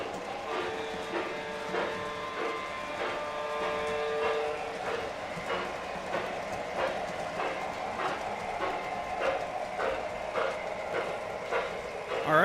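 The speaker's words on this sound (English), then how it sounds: "Alright, so now we got both the trains going" Two model trains run at once, a steady rolling rumble with regular clicking rhythm and a sustained tonal whine, close and continuous for several seconds.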